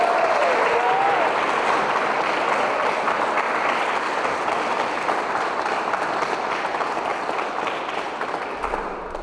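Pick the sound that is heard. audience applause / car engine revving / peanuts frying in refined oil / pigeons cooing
audience applause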